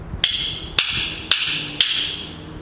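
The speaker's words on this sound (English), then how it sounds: "which really amounts to something very similar to a woodblock sound" A Chinese opera drum is struck four times at a steady, even pace, each hit a sharp, dry, woodblock-like knock with a brief bright ring, played close and alone.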